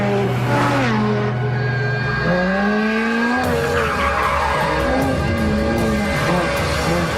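A Ferrari F430 Scuderia's tires squeal in long, loud, sweeping skids on the Ferrari test track, with engine noise underneath and no voices.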